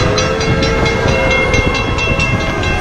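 The Polar Express steam train rumbles loud and close with a steady clattering roll and a sustained tonal whistle-like hum layered over it, continuous throughout without speech.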